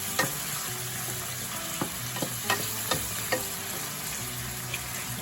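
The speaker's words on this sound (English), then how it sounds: "Fry up." Italian-style beef tripe with basil and grated Parmesan or Romano fries in a pan, a constant sizzling hiss broken by a handful of sharp utensil clinks and scrapes, with no voices.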